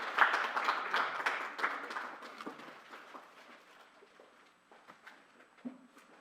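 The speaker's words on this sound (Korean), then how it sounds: "여러분 박수 부탁드립니다" Audience applause at a university-industry exchange gathering, a burst of sharp individual claps that is loud at first and then thins out to scattered, fading claps.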